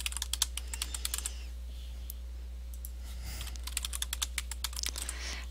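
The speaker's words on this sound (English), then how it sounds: "I'm just going to enter my password, an existing password," Someone types a password on a computer keyboard, with quick bursts of light key clicks separated by a pause, close and quiet over a low steady hum.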